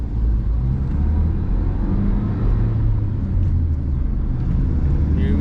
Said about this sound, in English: about to do a second gear pull with the fresh oil